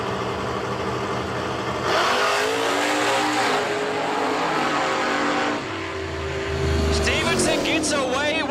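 A drag race car launches at a track and spins its tires, its engine roaring loud and continuous under an announcer's voice, then rising again with a squealing edge near the end.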